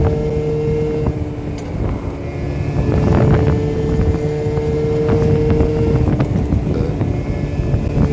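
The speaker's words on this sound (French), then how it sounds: "Ah, il y a vraiment de la misère, mon scooter." A small scooter engine drones steadily and strains, with wind buffeting the microphone throughout; no voices.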